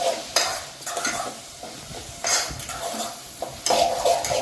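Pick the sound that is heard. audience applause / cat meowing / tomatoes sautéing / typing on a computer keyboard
tomatoes sautéing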